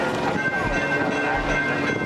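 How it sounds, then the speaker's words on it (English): A train rumbling past at a comic convention, a steady loud low roar with faint rhythmic rolling, continuous and close. "I didn't order the train to be here right now, yo."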